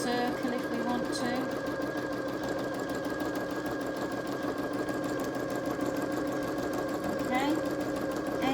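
Janome sewing machine stitching fabric, running steadily with a fast, even mechanical whir and needle chatter throughout, close and continuous, with no talk over it.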